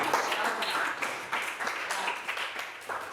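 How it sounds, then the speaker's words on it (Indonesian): A classroom group claps hands in uneven bursts, moderately distant, with scattered overlapping claps throughout. "tepuk tangan"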